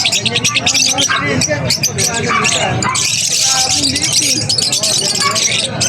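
Many birds chirp and tweet in a pet shop, busy overlapping high calls running throughout under steady conversation and background chatter from people nearby.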